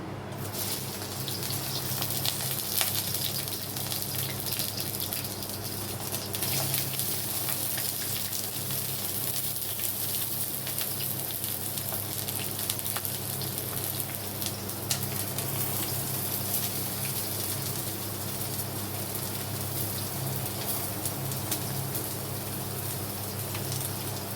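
Mustard seeds, green chili and onion fry in hot oil, giving a steady, dense sizzle and crackle that runs unbroken and fairly close throughout, with no voices over it.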